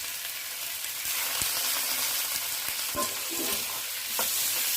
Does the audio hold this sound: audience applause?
no